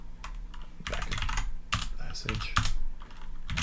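Keys clatter on a computer keyboard as a shell command is typed in a classroom terminal session, quick irregular bursts of clicks close up with brief speech mixed in.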